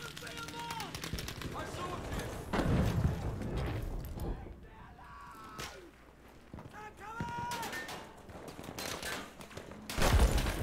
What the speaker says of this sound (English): I'm being shot from everywhere.